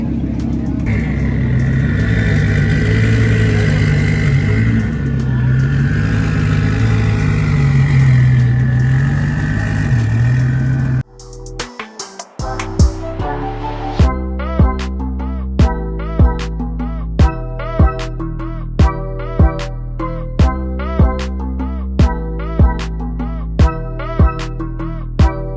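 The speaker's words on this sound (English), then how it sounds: "Oh, it's a twin turbo. It's a twin turbo Gallardo." A twin-turbo Lamborghini Gallardo idles for about ten seconds with a steady, deep, rumbling drone. It is followed by a sudden drop and then a rhythmic, beat-driven stretch of music.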